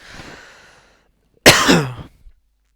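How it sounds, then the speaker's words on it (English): One person coughs at close range: a soft throat sound first, then a single loud, harsh cough after a brief pause, with no other sound. "I'm coughing myself to death actually"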